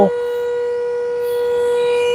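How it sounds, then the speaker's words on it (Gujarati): A loud warning siren at Dharoi Dam, sounded as floodgates release heavy water flow, holds one steady, piercing tone throughout, droning without a break and sounding fairly close. "ધરોઈ તંત્ર દ્વારા સાયરન વગાડીને એલર્ટ કરવામાં આવી રહ્યા છે"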